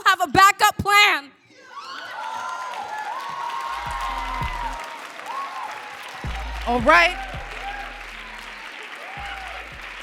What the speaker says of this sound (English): Keep clapping for Aya.